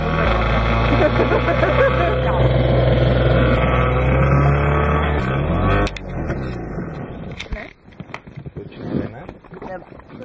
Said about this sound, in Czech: Motor jel a přitom se loď nehýbala kupředu.